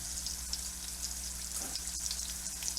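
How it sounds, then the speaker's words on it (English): Pork butt beginning to sizzle in a pot during canning prep, a soft continuous frying hiss with faint crackles, fairly quiet and steady. "It is starting to sizzle."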